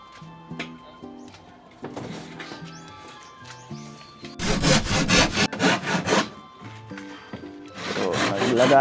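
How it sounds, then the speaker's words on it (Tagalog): A hand saw rasps through plywood in bursts of rapid back-and-forth strokes, loud and close, with melodic music playing underneath. "Lagari."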